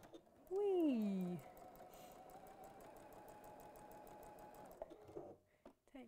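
Sewing machine stitching fabric: a steady, close mechanical whir with a fine rapid needle patter runs for several seconds, following a brief rising and falling vocal exclamation near the start.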